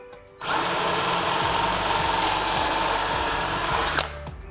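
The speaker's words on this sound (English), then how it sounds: "and drill away." Power drill boring pocket holes into a clamped wood panel, a steady loud whir running for about three and a half seconds before stopping abruptly, with faint clicks at either end.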